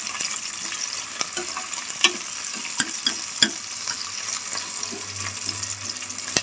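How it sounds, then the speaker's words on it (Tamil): Onions sauté in a kadai for a potato gravy with a continuous light sizzle. Scattered sharp taps and scrapes of a spoon against the pan punctuate it, and no one speaks. "இப்போ வெங்காயத்தை நல்லா வதக்கிக்கலாம்."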